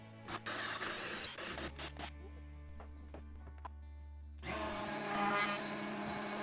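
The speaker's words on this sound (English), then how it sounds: "I'm struggling trying to drill this hole" A power drill with a hole saw grinds through material in uneven bursts, stopping and restarting with a steady hum between, then a louder rough stretch of cutting near the end.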